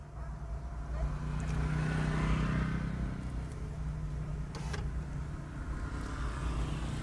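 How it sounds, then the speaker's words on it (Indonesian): A manual car pulling away slowly in first gear as the clutch is eased out, a low steady engine hum that rises slightly then settles, heard close from inside. "Nah, ini mobil jalan."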